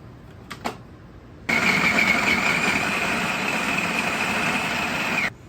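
An electric mixer spinning almond paste for cake starts abruptly after a couple of small knocks, then whirs loudly and steadily for about four seconds before cutting off.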